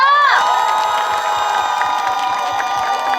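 A concert audience at a Korean traditional music and poetry event in Juwangsan cheers and whoops loudly, a dense, sustained crowd roar with shouting voices, close and filling the space for the whole stretch.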